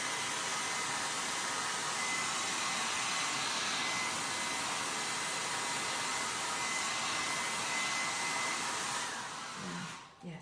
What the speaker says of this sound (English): So a hairdryer obviously isn't as fierce and hot as a heat tool.